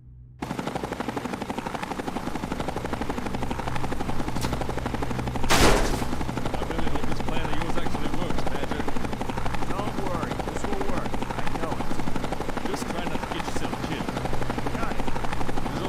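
A vertibird helicopter in the Fallout: Frontier game mod gives a continuous, loud rotor thrum throughout, with a burst of gunfire-like crackle in the middle.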